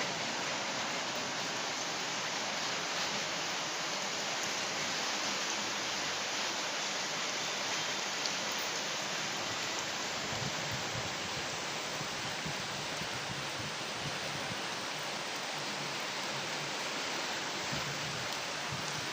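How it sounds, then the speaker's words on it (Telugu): A dense, unbroken roar of heavy rain in Hyderabad in April 2025, loud and even throughout, with no voices or other distinct sounds. "ఫుల్ వర్షం చూడండి అసలు ఎంత వర్షం బాబోయ్"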